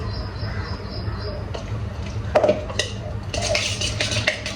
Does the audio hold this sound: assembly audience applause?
no